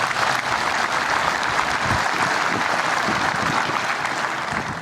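A large audience claps steadily and densely at a church ceremony in Burundi honouring bishops, a continuous loud wash of applause with no pauses.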